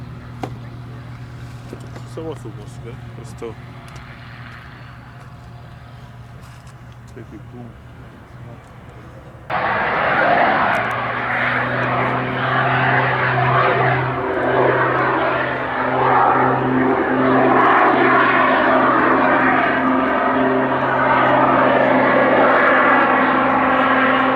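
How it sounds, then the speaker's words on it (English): A jet-powered Pitts aerobatic biplane performing at the Duxford air show, its engine rising abruptly into a loud sustained roar that holds steady, with a public-address commentator talking over it throughout. "it's the astonishing Rich Goodwin with his jet pits, and just look at this"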